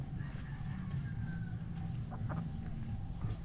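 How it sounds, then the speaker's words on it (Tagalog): A big, fat native chicken clucks softly in short, scattered bursts, faint against low background rumble and shuffling, with no clear voices. "Ang laki ng manok."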